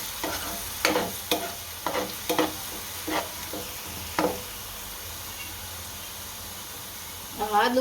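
Ginger tossed into hot oil for sev usal, giving a steady close sizzle with a series of sharp stirring scrapes and clatters at irregular intervals, then a fresh burst of frying near the end.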